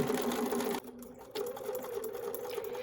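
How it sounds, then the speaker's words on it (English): A sewing machine stitches a foundation-paper-pieced quilt block along printed template lines, running in steady fast bursts with a brief pause midway for a back stitch, close and loud with no talk. "back stitch a couple of stitches where these printed lines intersect at the end before stitching off the template"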